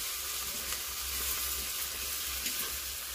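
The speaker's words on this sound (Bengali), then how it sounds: "মা আজকে অনেক দিনের পরে রান্না করছে মাংস।" Meat cooking in a pan at home, giving an even, steady sizzle that holds at a fairly quiet level throughout, close by, with a low hum underneath and no voices.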